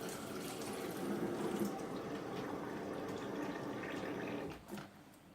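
Tap water runs in a steady, close pour into a glass for several seconds, then stops, ending with a few faint splashes.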